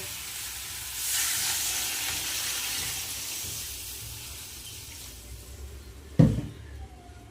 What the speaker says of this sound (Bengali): মশলা ভালো করে কষানো হয়ে গেছে এবার আমি জল দিয়ে দেব